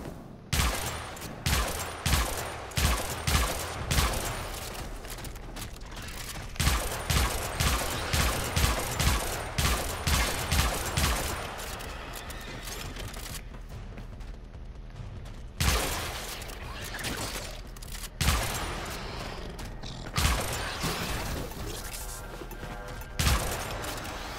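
Rapid bursts of Sybaris Prime rifle fire in the video game Warframe, loud, close volleys of quick repeated shots with brief pauses between, and later louder single cracks spaced a few seconds apart.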